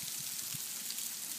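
Small hail and snow patter onto the ground and onto a person's clothing in Virginia, a faint, steady hiss with soft scattered ticks and no talk.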